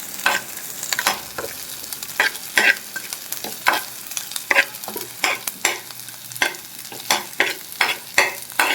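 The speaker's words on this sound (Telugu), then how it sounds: "ఇలా వేసుకుని బాగా మిక్స్ చేసుకోవాలండి." A restaurant-style baby corn manchurian mixture with garlic is stirred in a frying pan, with brisk rhythmic scraping strokes about once or twice a second over a low sizzle, close and fairly loud.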